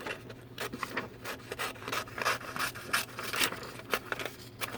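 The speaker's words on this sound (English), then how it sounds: "So I'm just going to trim this out." Paper card template being cut out by hand, soft quiet scratchy snips and rustles repeating in an uneven rhythm close by, with no talking.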